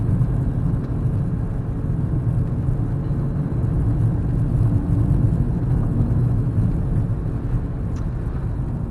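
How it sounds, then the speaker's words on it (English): A turbocharged car engine with a fuel problem, used as a winter beater, gives a steady low rumble that drones on unbroken throughout, with no talking. "You hear the sound of that turbo"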